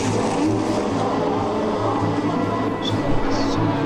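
Formula 1 race cars roar away at a race restart, a dense, continuous engine drone from several cars at once, loud and sustained with faint tire noise.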